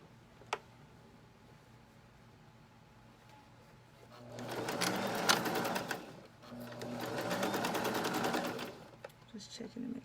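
A sewing machine stitching an in-the-hoop bib runs a back stitch in two steady whirring bursts, each about two seconds, separated by a short pause over a quiet room background.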